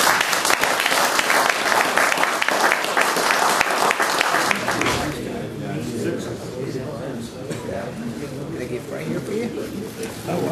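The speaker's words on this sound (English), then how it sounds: "I think we all owe him a round of applause at least" A crowd at a retirement celebration claps loudly and densely for about five seconds, then the applause drops away to quieter room murmur and scattered sounds, with voices talking afterward.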